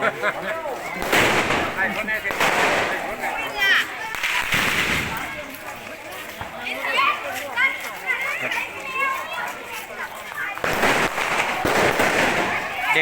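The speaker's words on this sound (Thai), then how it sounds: "เด็กๆ ก็จะจุดประทัดนะ" Children set off firecrackers during an Ok Phansa beeswax-flower festival procession: sharp, irregular bangs burst out over constant crowd chatter, children's voices and a talking announcer.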